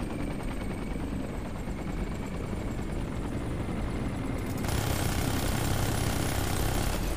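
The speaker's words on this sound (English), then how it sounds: "Hostile chopper inbound!" A hostile helicopter in the video game Ghost Recon: Future Soldier thunders with continuous, loud rotor chop and engine roar, growing heavier and closer partway through, with no talk over it.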